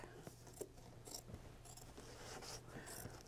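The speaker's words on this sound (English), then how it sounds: "use an applique scissors. I'll raise the presser foot, cut into the fabric" Applique scissors snip into fabric at a sewing machine, giving several quiet, crisp cuts against a low machine hum.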